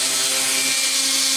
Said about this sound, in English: Okay, pilot holes are in.